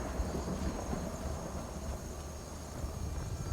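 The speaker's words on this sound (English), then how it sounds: "Well, why did it thunder and then" Thunder in the video game Skyrim rolls as a low, broad, continuous rumble that holds steady and fairly loud for several seconds, with no voices.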